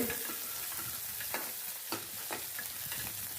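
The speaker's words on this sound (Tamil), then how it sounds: "கொஞ்சம் வெள்ளைப்பூடும் வெங்காயம் சேர்த்துக்கலாம் சேர்த்துட்டு நல்லா வதக்கி விட்டுக்குருவோம் பாருங்கள் இப்போ நல்லா வதங்கிக்கிட்டுருக்கு" Garlic and onion sauté in a hot pan while a spoon stirs them, giving a soft, continuous sizzle with occasional scraping clinks, quiet and close with no talk.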